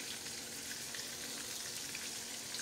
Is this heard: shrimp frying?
yes